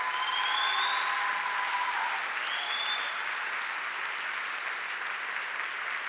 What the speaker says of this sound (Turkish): Kıymetli alkışlarınızla efendim